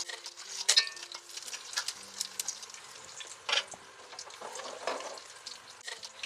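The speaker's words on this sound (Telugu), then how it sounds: "నూనె కాగుంది కాబట్టి ఉల్లిపాయలు వేస్తున్నాను." Onions sizzle and crackle in hot oil and ghee for biryani, a close, steady frying hiss broken by bursts of stirring and sharper pops, with no talking.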